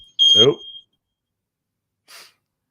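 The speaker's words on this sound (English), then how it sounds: "Somebody set off the smoke detector, I guess." A smoke detector gives one short, high-pitched beep that overlaps a brief vocal sound, followed by near silence.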